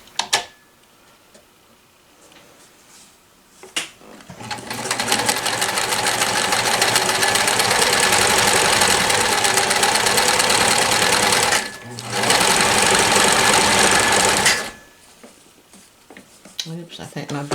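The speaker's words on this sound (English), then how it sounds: "I'm going to switch over to the blind hem stitch" A 1994 New Home Model 108 limited edition sewing machine runs a blind hem stitch in a fast, steady mechanical chatter. It is loud and close, stops briefly in the middle and then restarts, with quiet moments before and after.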